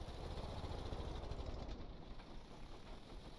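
A modular engine in the game Stormworks stalls after a hard shift into reverse: a steady broadband rumble runs loud, then thins and fades slightly toward the end, with no talking over it.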